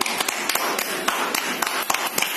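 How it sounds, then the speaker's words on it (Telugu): An audience claps hands together at a live demonstration, a dense burst of many overlapping sharp claps running steadily throughout, fairly loud and close. "ఇంకొకసారి గట్టి చప్పట్లు కొట్టండి"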